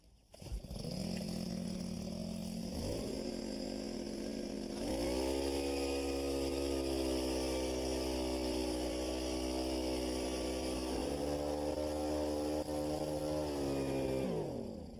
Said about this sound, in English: This is a propane-powered blower.